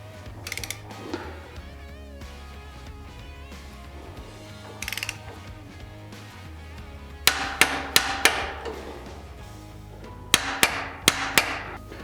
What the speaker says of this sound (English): we're going to go ahead and torque them down to 35 foot-pounds of torque.